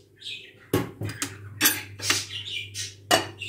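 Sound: covering the pot and setting it aside

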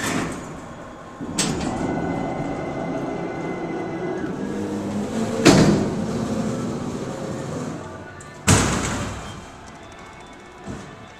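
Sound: Schindler freight elevator running

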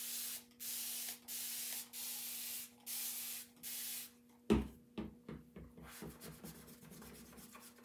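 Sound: spray bottle spraying a chalk stencil

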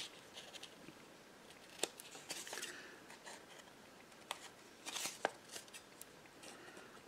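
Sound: scissors cutting paper edges

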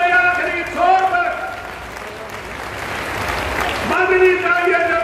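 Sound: rally crowd clapping

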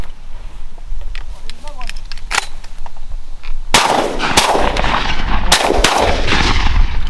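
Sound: shotgun shots while hunting mourning doves

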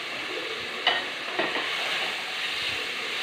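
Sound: sautéing red onion, garlic, ginger and curry leaves in pan

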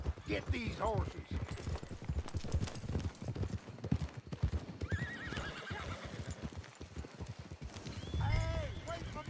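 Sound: horses galloping and neighing in video game Red Dead Redemption 2

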